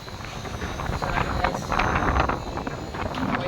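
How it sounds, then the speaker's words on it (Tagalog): Inside the bow thruster room of a ship, air rushes and blows in a continuous, fairly loud hiss with gusty surges, close to the microphone and with no speech. "May hangin sa loob."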